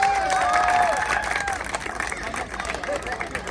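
A crowd at a party in London claps together, brisk dense applause mixed with cheering and chatter, loud at first and easing slightly over a few seconds, with a voice speaking over it.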